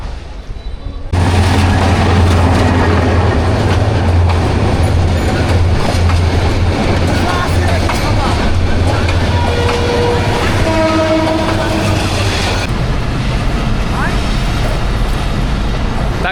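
A crowded passenger train passes near Kolanice in Dhaka, Bangladesh, arriving abruptly loud with heavy rumbling, clattering wheels and brief horn-like tones, then easing off near the end; voices murmur underneath.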